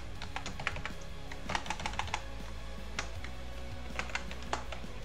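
Typing on a computer keyboard while coding a Node.js and Express.js project: a steady run of close, light key clicks with a few sharper, louder taps, no talking.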